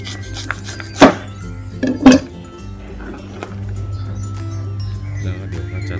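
Knife cutting into the base of a ripe, split-open durian, giving a few sharp cracking thuds near one and two seconds over a steady low hum, then quieter rustling handling.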